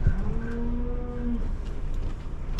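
A single loud, close moo comes from cattle riding in a livestock trailer, rising then holding for about a second over a steady engine rumble.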